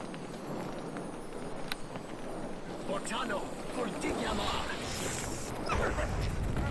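Guard dogs barking and whimpering in the game Neverwinter Nights, a busy mix of yelps and whines over steady game ambience and clatter throughout.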